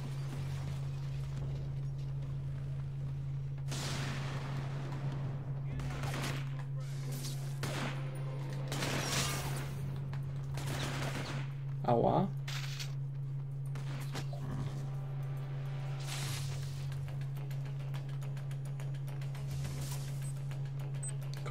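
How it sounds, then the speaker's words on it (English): Explosions and gunfire pop out in the inFamous 2 video game, a series of sharp separate blasts and crackles over a steady low hum, with no talking. "Kolejna bomba, która powinna bumnąć."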